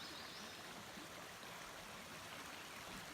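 Steady, quiet rush of a flowing stream along the Ozark Highlands Trail near the Buffalo River, a continuous even wash of water with no voices.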